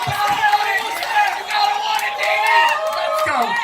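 Spectators at a rib eating competition cheer and whoop loudly over a host shouting into a microphone, the voices of the crowd rising and falling through the final minute.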